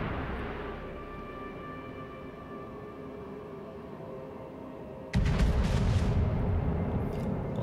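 Heavy naval gun salvo from the Wyoming battleship in World of Warships, a sudden loud broadband blast at about five seconds that rolls on as a sustained rumble over low background game noise.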